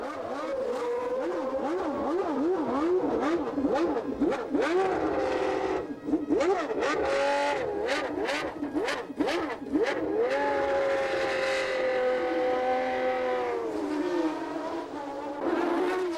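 Nigel Mansell's Ferrari Formula One car drives on track, its high engine note wailing as it rises and falls through rapid gear changes and revs, then holding a long steady scream.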